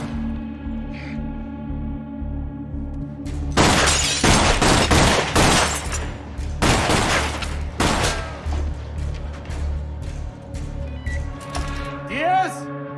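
Shootout at a motel in an NCIS episode: rapid bursts of gunfire crack and clatter close by for several seconds, mixed with impacts and debris, over a low dramatic score with brief voices.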